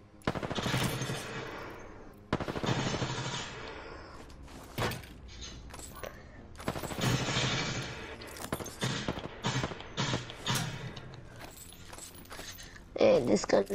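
G7 Scout rifle fired in a video game firing range: sharp, loud shots in separate bursts with gaps between, some single cracks, plus lighter clicks and handling noises near the end.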